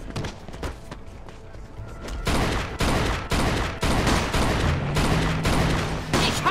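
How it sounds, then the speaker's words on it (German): Gunfire in the Mafia 2 video game: dense, loud bursts of shooting in rapid succession, dull at first and then sharper and more intense, with a voice briefly underneath. "Scheiße, die haben Kanonen."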